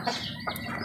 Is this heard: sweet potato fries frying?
no